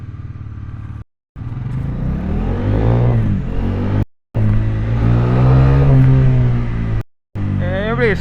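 Bajaj Pulsar NS400Z motorcycle accelerating hard through the gears, a loud close engine roar rising in pitch in three strong pulls separated by brief silent gaps.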